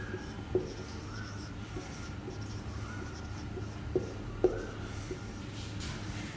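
Chalk or marker writing on a board during a maths lesson on sets, faint soft scratches and a few light taps against steady low room noise.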